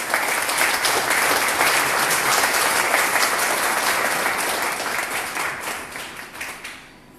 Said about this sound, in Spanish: Yo en lo particular les brindo un aplauso a los autores